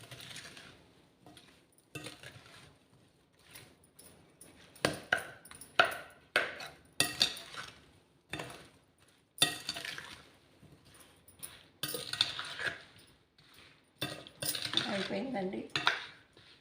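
Tomato pieces for pickle are mixed with salt and turmeric in a metal bowl, giving irregular clinks, scrapes and rattles of a spoon against the bowl in short bursts with brief pauses, close by.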